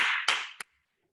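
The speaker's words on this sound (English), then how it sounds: "I'm going to give both of you a round of applause because it's so silent there." Two or three sharp claps for two participants in a virtual strategy session, close and crisp, the last one brief and isolated before silence.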